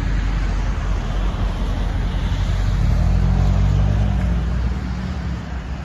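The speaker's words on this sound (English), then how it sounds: "so we need to stop and look for traffic." Road traffic rolls past on a street in Methuen, Massachusetts, with a steady loud roar of passing cars. One engine hums closer and swells midway before easing off.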